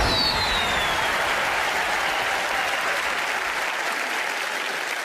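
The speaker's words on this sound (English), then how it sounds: "Applaud for Teller." Studio audience applauding a magic act on a television magic competition, a dense, steady wash of clapping that holds at full strength throughout with no talk.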